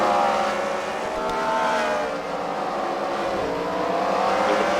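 Race cars from rival teams, a checker car and a wrecker car, battle on a track at a fight night event at the Freedom Factory, engines droning and revving continuously at close range.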